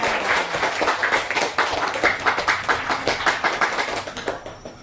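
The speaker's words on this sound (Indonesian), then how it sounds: "Tepuk tangan untuk kelompok 4." Classroom group claps for a student team during a lesson, a few seconds of brisk, rhythmic hand clapping close by, with no talking.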